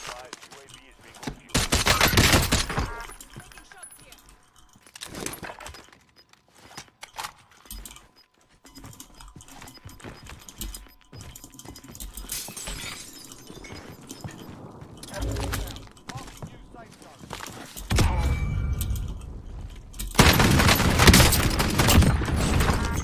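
Gunfire in Call of Duty Warzone around a DMR-14 rifle, with loud bursts and rapid volleys at the start and end and scattered shots and game noise in between.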